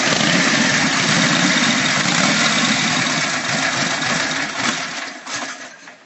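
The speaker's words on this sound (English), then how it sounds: "So I'll just turn the ignition on and we'll see what happens." An old Class C hand-shift racer motorcycle engine, close and loud, runs with a harsh, busy exhaust roar that eases and becomes more uneven toward the end, with no voices.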